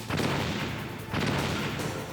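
Gunfire in the video game Metal Gear Solid, two dense bursts of loud, noisy shots with a short gap between them, alone without talk.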